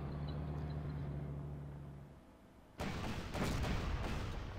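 Artillery fire in the WWII strategy game Panzer Corps: a quiet low hum gives way to a sudden loud burst of booming shots that keeps rumbling to the end.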